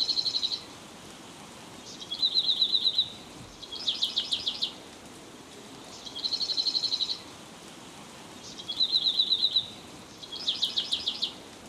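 A Chilean marsh wren, the chercán de las vegas, sings repeated short phrases of high, rapid buzzy trills, six bursts spaced a second or two apart. Each bursts out clearly against quiet background hiss.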